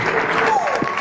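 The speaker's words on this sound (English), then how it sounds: "a little applause for Kelly" A short burst of audience applause greeting a guest on a horror-themed podcast, lasting about a second, with a faint voice mixed in.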